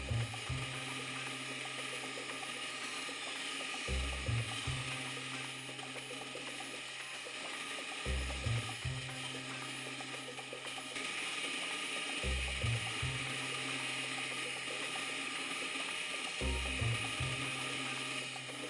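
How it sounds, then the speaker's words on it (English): A small bandsaw cuts a guitar body outline in wood with a template attached, a steady mechanical hum with a low thump-like surge repeating about every four seconds, moderately loud and continuous with no speech. "I just cut out the outside on the bandsaw with the template attached"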